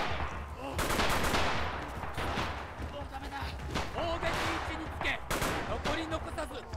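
Bursts of Type 100 submachine gun fire in the Red Orchestra 2: Rising Storm game, dense overlapping automatic shots and distant gunfire crackling through a busy battle soundscape, loud and continuous with no clear pause.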